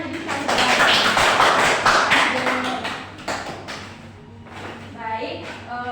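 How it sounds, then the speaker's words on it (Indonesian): Schoolchildren in a classroom clap their hands together in a dense, fairly loud burst that fades after a few seconds, with voices talking around it. "Tepuk tangan lagi sekali."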